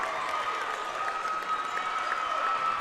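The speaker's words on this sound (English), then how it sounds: "The crowd is on their feet." A basketball crowd on its feet in a gym with the score tied late in the game, steady loud applause and cheering filling the space without a break.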